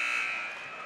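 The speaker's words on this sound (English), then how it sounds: "there's your buzzer" A basketball end-of-quarter buzzer at a women's college game sounds as one loud, steady electronic tone that holds and slowly fades, heard close and clear.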